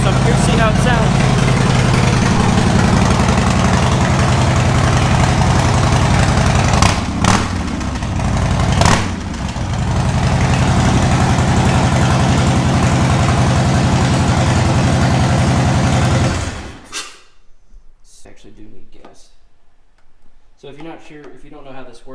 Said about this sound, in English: Started the bike with the new mic, so I'm curious to see how it sounds.